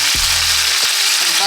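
Garlic going into a hot frying pan with jerk steak sets off a loud, dense, continuous sizzle and hiss, close up, with a few low thumps underneath and no talking.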